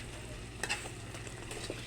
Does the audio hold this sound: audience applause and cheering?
no